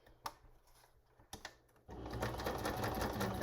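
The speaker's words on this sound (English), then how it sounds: "just finish stitching around." A sewing machine stitches around paper ephemera, starting after a few soft clicks and settling into a steady, fairly quiet mechanical whir.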